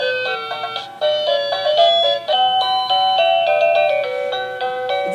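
A smart doorbell plays a chime melody, a loud, clear run of bright electronic tones stepping through a short tune, close and alone without talk.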